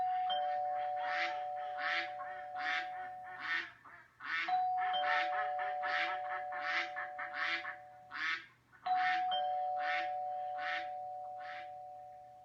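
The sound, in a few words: duck quacking from a book of sounds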